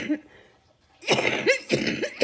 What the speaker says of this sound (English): I'm still coughing up some stuff here